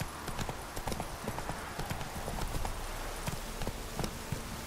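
Roach, Geralt's horse in The Witcher 3, gallops with a steady, rapid clip-clop of hooves that stays close and loud and runs continuously over faint game ambience.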